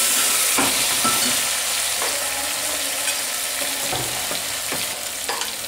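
Stuffed eggplant fries in a pan while a spoon stirs it, giving a steady bright sizzle punctuated by several scraping, clinking knocks of the utensil against the pan, close and without speech.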